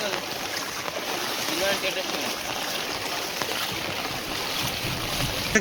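Steady, broadband rush of a fast-flowing village flood torrent, loud and continuous throughout, with a voice talking faintly over the roar.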